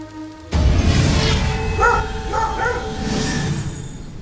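A dog in a video game barks a few short, yipping times in the middle of a steady, loud background of game ambience and music.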